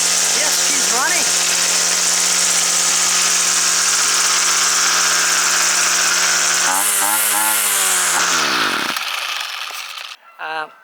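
A small petrol whipper snipper string trimmer, recently repaired, idles with a steady buzzing drone, then revs up and down in a few surges before the engine winds down and cuts out near the end.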